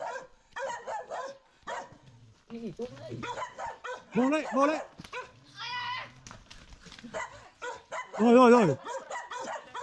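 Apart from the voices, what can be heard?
dogs barking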